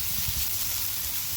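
Aromatics sautéing in a pan for sweet and sour ribs, a steady, close hiss of sizzling that holds evenly without pause.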